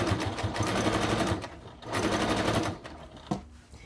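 A sewing machine top stitches an armchair caddy in a rapid, rattling run, pauses briefly, resumes, then trails off with short bursts, close and clear with no talking.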